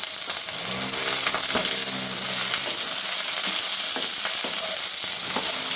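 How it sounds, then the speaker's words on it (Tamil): Brinjal and mixed vegetables for Tirunelveli idi sambar fry loudly in a pan, a dense continuous sizzle close up with scattered stirring scrapes throughout, no talking. "இந்த கத்திரிக்காயும் அதில் போட்டுக்கணும்"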